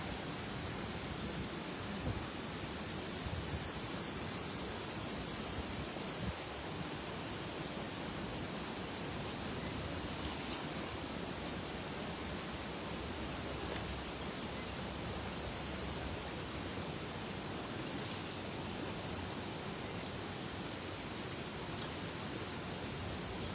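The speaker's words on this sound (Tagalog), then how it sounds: "Lakas ng agos. Ingat ka, master. Malakas yung agos." A strong river current rushes in a steady, even wash of noise, faint and unbroken for the whole stretch, with no voices.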